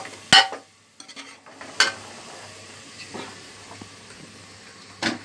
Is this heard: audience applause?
no